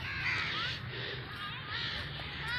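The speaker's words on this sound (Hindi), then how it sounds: "बस देखें इतने ज़्यादा कौवे आके बैठे हुए हैं" A large flock of crows gathers where food has been scattered, many harsh caws overlapping continuously at close to middle distance with no talk.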